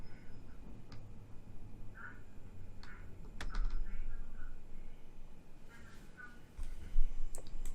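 A few sparse computer keyboard key presses click faintly over a steady low hum, with a louder burst of clicking near the end, during Train Simulator 2020 play.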